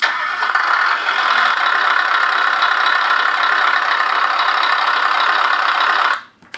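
A Beier MSM-1 engine sound module plays a continuous, loud rumbling engine idle through a speaker for about six seconds, then cuts off abruptly near the end.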